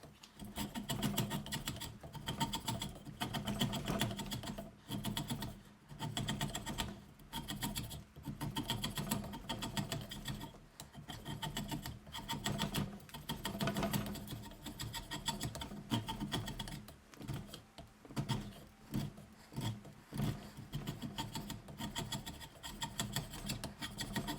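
A drawknife shaves oak for a new hammer handle in repeated rasping strokes, close and steady, with brief pauses between pulls.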